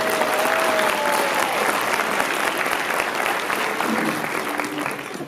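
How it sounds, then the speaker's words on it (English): A large audience at a Founders Day speech applauds fraternity brothers and sorority sisters from Mississippi State, a loud, continuous roar of clapping from many hands with scattered whoops, holding steady and easing slightly at the end. "Give them a nice round of applause."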